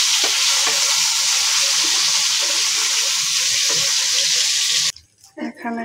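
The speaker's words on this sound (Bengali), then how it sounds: "এখানে কয়েকটি শুকনো মরিচে ভেজে নেব আমি।" Dried chillies frying in a pan, a loud, steady hissing sizzle close up, ending abruptly after about five seconds and giving way to softer kitchen noises.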